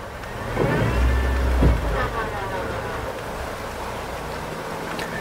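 A five-door Suzuki Jimny stuck off-road revs its engine as a wheel spins and traction control cuts in, a low droning rev swelling then easing, with someone talking over it.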